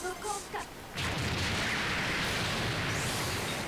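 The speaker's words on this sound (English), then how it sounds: "she blows up in a lovely explosion" A boss blowing up in the shoot-'em-up arcade game DoDonPachi DaiFukkatsu, a sudden loud roaring blast that swells in at about a second and holds as a dense, sustained rumble to the end, with game sounds before it and no talk.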